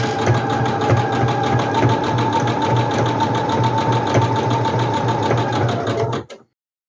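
A sewing machine runs a zigzag seam around a fabric bag, a fast steady mechanical chatter close up that stops abruptly near the end.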